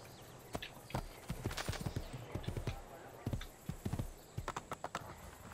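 A horse's hooves clip-clop at a walking pace in Assassin's Creed II. The hoofbeats are crisp and uneven and come in short runs over quiet game ambience.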